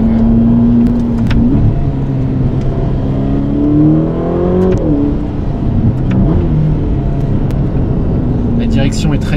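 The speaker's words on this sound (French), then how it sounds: "quand tu mets le pied au plancher, la voiture te rappelle que sur le capot il y a un badge Ferrari" A 620 hp Ferrari Roma engine roars loudly at full throttle, its pitch climbing through gears with brief dips at shifts, while someone talks over it.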